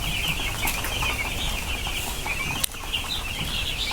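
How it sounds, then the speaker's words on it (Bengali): Chickens cluck softly and continuously while eating feed from a feeder, with a low background hum and one sharp knock midway. "কি সুন্দরভাবে খায় মুরগিগুলো"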